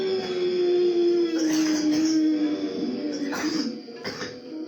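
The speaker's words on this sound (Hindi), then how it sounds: "ऐसे खांसी जाएगी" A low sustained hum of voice, broken by several short, rough deliberate coughing bursts during a yoga breathing exercise, spaced a second or so apart, close and fairly loud.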